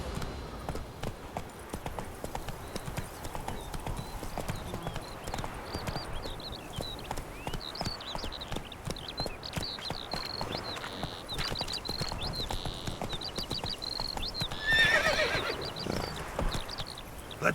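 Horse named Roach in a video game, with clip-clop hoofbeats running steadily throughout and whinnying neighs breaking in, fairly loud, over a busy background of game noise.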